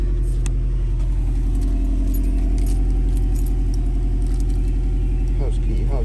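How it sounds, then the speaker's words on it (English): Keys jangle in a short burst near the end, picked over while searching for a house key inside an idling 2018 Subaru WRX STI, whose steady low engine rumble fills the whole cabin. "House key, house key, house key."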